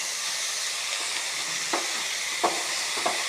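Thoothuvalai leaves frying with grated coconut in a pan, a steady soft sizzle and hiss with a few faint stirring scrapes, close and without talk.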